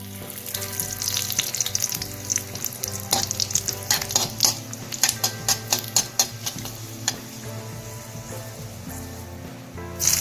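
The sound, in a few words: dried red chillies frying in ghee with mustard seeds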